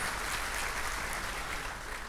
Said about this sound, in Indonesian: Yang mau kasih tepuk tangan dulu dong buat Tuhan kita Yesus Kristus